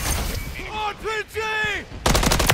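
In Call of Duty Modern Warfare 3 multiplayer, an RPG fires and explodes as an abrupt, harsh burst. It follows a shouted voice callout and ends the short moment loudly.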